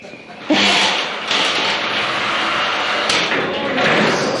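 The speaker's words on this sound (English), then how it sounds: "And bang into the ladder." A garage door bangs into a ladder with a loud metallic clatter, followed by sustained rattling and scraping of the door against it, with a second knock midway.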